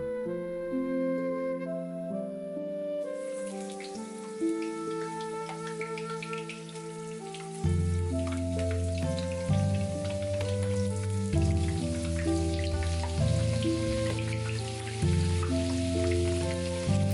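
Chopped onion sizzles in hot sunflower oil in a frying pan, a steady crackle of frying that runs throughout beneath louder background music.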